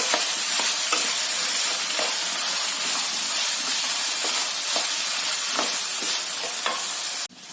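Steady sizzling of eggplant and soaked chana dal frying, with repeated scraping strokes as they are stirred in a pan, close and continuous.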